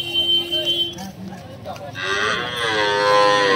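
Cattle at a village cattle market give a loud, drawn-out moo close by, rising and bending in pitch, with people talking in the background.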